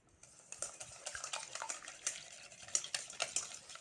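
Eggs for a cocoa cake batter whisked in a bowl, a rapid run of light clinking strokes against the side that starts after a brief pause and keeps a fairly even rhythm.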